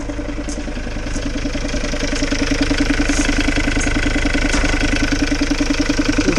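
A car engine idles while warming up, a steady close rumble with an even rapid pulsing beat and a faint metallic ticking on top, running alone without speech.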